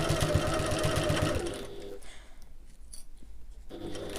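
Sewing machine back stitching a backpack seam, a rapid mechanical whirring chatter that runs briefly, stops, then starts again near the end, close and fairly loud.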